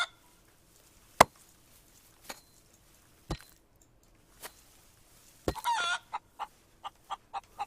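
A chicken in the survival game Rising World clucks in scattered short bursts, a few isolated calls early on and then a quicker run of clucks toward the end, fairly faint against quiet game ambience.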